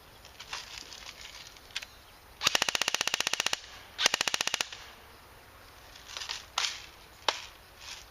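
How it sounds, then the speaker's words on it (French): An airsoft gun on a new 9.6-volt battery fires two rapid full-auto bursts, a fast mechanical rattle of shots, with a few scattered single clicks and taps before and after. "j'adore cette nouvelle cadence de tir"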